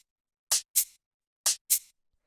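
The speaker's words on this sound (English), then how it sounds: "Just like a simple hi-hat and a shaker there" Simple hi-hat and shaker samples in a deep micro house groove trade off each other, two crisp hissy hits in quick pairs, repeated twice with gaps between, isolated and clear.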